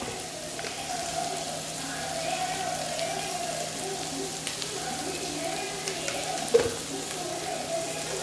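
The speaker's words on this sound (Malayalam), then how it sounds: "ഈ സവാളയൊക്കെ നന്നായിട്ട് വഴറ്റിയിട്ട് ഒരു ബ്രൗൺ കളറൊക്കെ ആകട്ടെ" Onions are sautéed in a pan for chicken roast, giving a steady, soft sizzle and crackle with occasional stirring clicks and a faint voice in the background.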